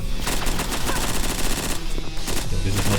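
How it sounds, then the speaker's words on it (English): A weapon in the video game Slingshot Protocol fires in rapid, steady machine-gun bursts, loud and continuous throughout, with dense repeated shots and a faint voice underneath. "This is not a good weapon for this."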